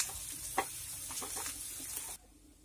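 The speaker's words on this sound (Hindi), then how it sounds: "अब हम इसमें अदरक और लहसुन डाल के इसका कच्चापन दूर होने तक फ्राई कर लेंगे" Steady sizzling of ginger and garlic frying in a hot pan, with a few soft stirring clicks; the sizzle cuts off abruptly near the end.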